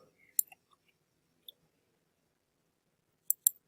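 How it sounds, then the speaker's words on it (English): Keys tapped on a Mac keyboard, a few sparse, crisp clicks scattered across a quiet room, with a short cluster near the start and a quick double tap near the end. "Enter on your keyboard"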